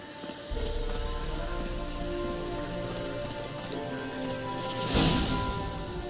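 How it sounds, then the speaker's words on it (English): Steady rain falling in The Witcher 3: Wild Hunt, a constant close hiss of drops on surfaces that swells briefly louder near the end. "Looks like rain."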